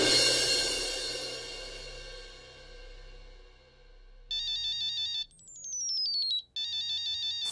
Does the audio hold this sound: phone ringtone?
yes